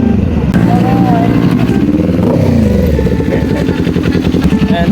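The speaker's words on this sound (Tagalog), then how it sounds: "May narinig nga na naman akong tunog big bike" A green big-bike motorcycle passes close, its engine a loud, rough, continuous roar that swells and rumbles throughout with no pause, dominating everything around it.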